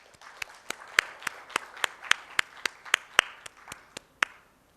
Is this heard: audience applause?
yes